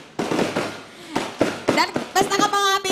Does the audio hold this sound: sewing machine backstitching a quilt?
no